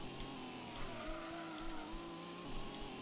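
Racing car engine in the PlayStation game Gran Turismo, revving hard with a steady droning tone that rises and shifts pitch through gear changes, loud and continuous with no talk.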